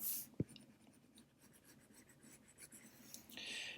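Pencil with blue lead sketching loose lines for a cartoon face, soft scratchy strokes repeating in quick succession, faint and close, with one sharp tap near the start.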